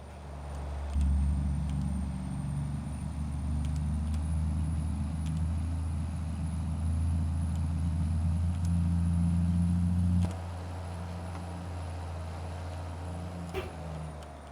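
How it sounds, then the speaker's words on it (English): Steady low drone of an unloaded truck engine cruising along a highway in a driving video game, constant and close with a drop in level partway through and a faint hiss on top. "Truck sure goes quicker without all that weight."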